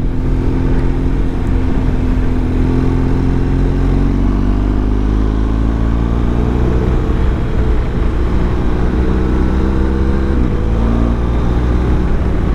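A concrete mixer truck rumbles loudly and continuously while passing on a narrow road in Germany, its engine drone shifting pitch as it goes by, heard close up from a motorcycle.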